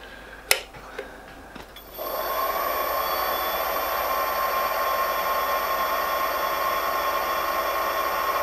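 Charnwood W824 lathe motor starts after a few light clicks and taps, then runs as a steady, fairly quiet whirring hum with a faint high whine, continuing evenly without talk.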